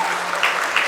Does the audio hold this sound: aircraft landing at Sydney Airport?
no